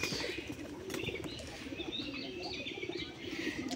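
Pigeons coo softly in a low steady murmur while feeding from a person's hand, with faint chirps and light wing flutter mixed in.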